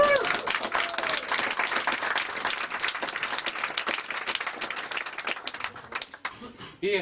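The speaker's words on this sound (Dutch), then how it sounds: "Geef een applaus, Ipe en Willem." A small group claps in a rapid, crisp patter at an indoor afternoon event, steady for several seconds before dying away as a voice comes back in.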